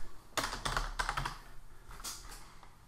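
Text is typed on a computer keyboard while setting up a photo booth program, giving a quick run of close, crisp key clicks that then thins to a few scattered taps, with no talk.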